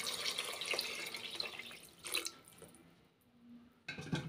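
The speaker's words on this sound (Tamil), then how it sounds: "ஸோ 4 கிளாஸ் தண்ணி வந்து இதில் ஆட்" Water is poured from a glass into a pot of rice for vegetable biryani, two cups of rice taking four glasses of water, a splashing flow in short bursts with a quiet gap between pours.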